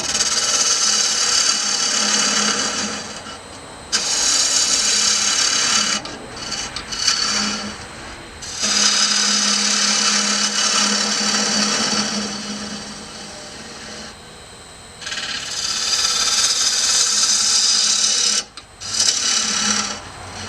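A wooden urn spinning on a lathe gives off a loud, bright rasping hiss as the tool rubs the turning wood, in long bursts separated by quieter pauses.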